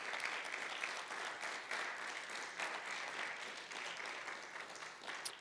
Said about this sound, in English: let's give Alycia a huge round of applause